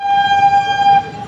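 A passenger train sounds its horn, a loud, steady blast held for about a second and then fading.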